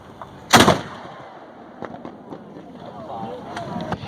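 A historic cannon at Castillo de San Marcos fires a blank charge: one loud, booming blast, followed by a lingering rumble while people talk and react nearby.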